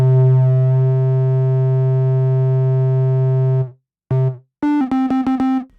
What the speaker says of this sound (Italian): Prendiamo una sinusoide anche qui.